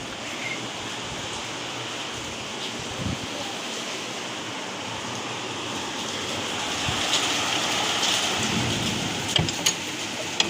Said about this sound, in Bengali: এখন বৃষ্টি হচ্ছে।